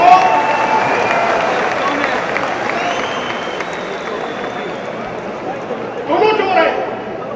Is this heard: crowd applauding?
yes